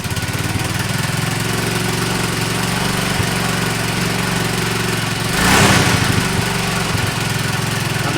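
A 1986 Honda TLR200 Reflex motorcycle engine runs on choke with a steady, loud single-cylinder putter, briefly rising in a short surge of revs before settling back to an even idle.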